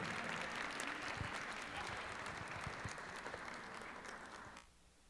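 An audience applauds steadily to welcome a speaker at a university event on oral trials and expert evidence, dense clapping that fades out near the end.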